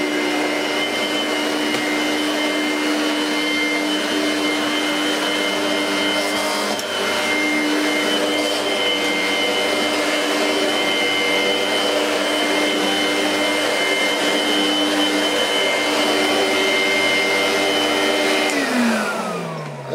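A Vorwerk ET340 powerhead vacuum cleaner runs on carpet with a steady, close motor whine and brush hum, then the pitch drops sharply as it switches off near the end.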